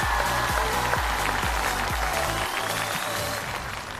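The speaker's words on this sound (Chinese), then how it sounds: "掌声再次送给我们" Audience applause fills a stand-up comedy show, a dense, steady clatter of clapping that runs the whole time over a rhythmic thumping bass beat from music.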